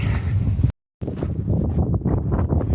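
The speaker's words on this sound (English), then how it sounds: "It's really windy out here." Strong wind buffeting the microphone outdoors on the Continental Divide Trail near Butte, Montana, a loud roaring rush that cuts out briefly, then returns just as hard.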